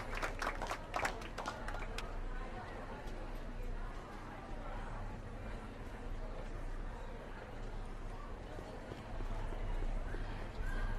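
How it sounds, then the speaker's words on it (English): Scattered clapping rises briefly at the start, then gives way to a murmuring crowd with steady background noise. "How about a round of applause just for the heck of it?"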